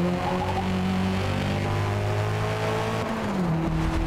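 A race car engine in the video game Forza Motorsport roars steadily with a deep, bassy exhaust note, its pitch shifting as it revs down and back up near the end.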